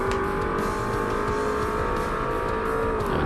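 A race car engine in the Forza Motorsport video game holds a loud, steady, high-pitched drone throughout, with a slight dip in pitch at the end and no voices.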